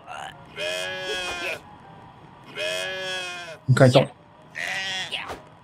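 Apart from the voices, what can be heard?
sheep bleating in the video game Just Die Already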